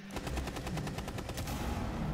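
Rapid automatic gunfire in a bomb-planting shooter video game, a dense burst of evenly spaced shots lasting over a second, loud and close, then trailing into a noisy wash with no talk over it.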